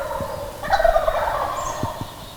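A wild turkey gobbling in the New York mountains, one clear rattling gobble of moderate distance rising over the outdoor background, with faint thumps around it.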